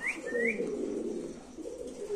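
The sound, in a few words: pigeon cooing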